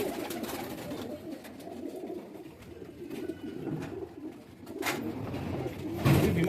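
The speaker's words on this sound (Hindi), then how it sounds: "उड़े वाले कबूतर" Homing pigeons coo steadily in a loft, several birds layered in soft low rolling calls with occasional wing flutters and rustling close by, no talking.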